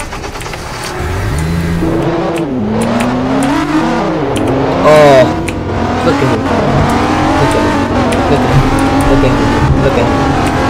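A 2017 Nissan 370Z revs and accelerates hard, engine pitch climbing and shifting through gears close by, with a brief louder burst midway and excited talk over it.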